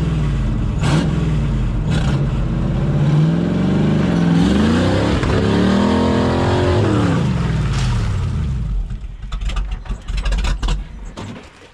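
An off-road vehicle on a rugged trail hill climb has its clutch dumped. The engine howls loudly close by, revving up and down in sweeping pitch swings, then sputters and drops off toward the end.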